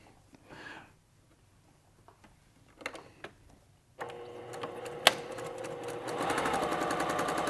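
A sewing machine stitches hexagon quilt pieces. A few faint clicks and handling sounds come first, then the motor starts with a steady, close whirring rattle that speeds up and grows louder toward the end.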